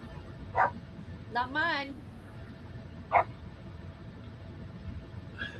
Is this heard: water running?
no